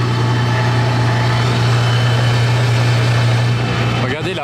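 A parked Aston Martin Valkyrie Spider idles with a loud, steady low drone and a busy mechanical whir, and the engine note drops away right at the end.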